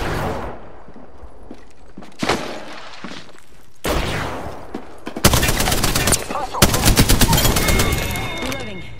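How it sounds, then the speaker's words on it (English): Gunfire in the Apex Legends battle royale game: bursts of rapid automatic shots, loudest and densest in the second half, with broadband cracks and brief pauses between volleys. "I am taking fire."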